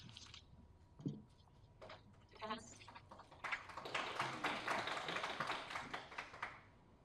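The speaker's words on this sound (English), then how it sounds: "that clapping was clearly inappropriate" Applause breaks out in a courtroom after a closing argument urging a guilty verdict in the Sade Robinson trial, building from scattered taps and claps into a dense burst of clapping that fills the room for several seconds.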